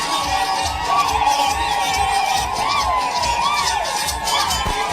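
A crowd at a Kenyan political rally cheers for the deputy president, loud mixed shouting, whoops and high voices rising and falling over a continuous roar, close and energetic, with some voices audible amid the noise.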